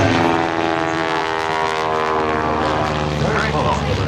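Loud, steady propeller-engine drone from a biplane flying an aerobatic smoke display at an airshow, a continuous close roar that holds throughout with a slight shift in pitch near the end.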